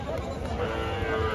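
A dairy cow at a busy cattle market in Jhenaidah lets out a short, nearby moo amid the low murmur of the crowd and voices.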